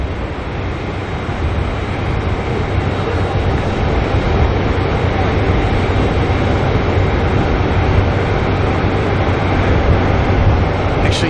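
A Dash 8 turboprop from Tauranga touches down at Auckland Airport, a steady, loud engine roar with broad rumble holding throughout, no talk over it.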